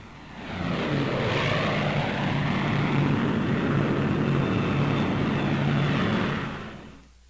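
Lockheed P-38 Lightning twin-engine fighter planes drone loudly overhead in 1944, a dense sustained propeller roar that swells in, holds steady and fades out.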